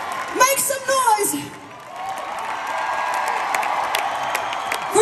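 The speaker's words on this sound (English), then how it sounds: "Make some noise" A concert crowd at the Play show cheers and applauds in a sustained, fairly loud roar after a brief spoken line, holding steady to the end.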